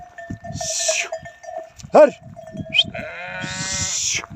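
Sheep bleat in a village farmyard, two drawn-out calls near the start and end with a brief sharp cry between, while someone talks to the animals.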